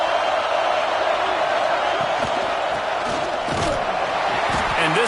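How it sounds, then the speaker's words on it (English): A football stadium crowd roars continuously and loudly for its defense during a red-zone stand, a dense wall of cheering and yelling with scattered shouts. "this crowd imploring its defense to stand firm"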